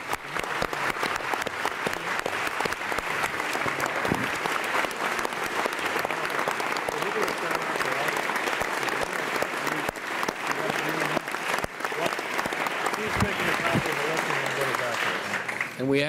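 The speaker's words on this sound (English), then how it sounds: "so we should give them a round of applause." Sustained, dense applause fills a House committee hearing room during a health care legislation markup, holding at an even level throughout with faint murmuring voices mixed in underneath.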